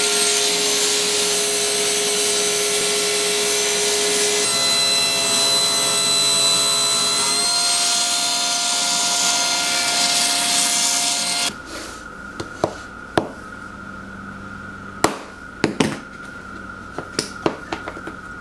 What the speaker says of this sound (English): I'll use a piece of this purple heart and cut it on the table saw.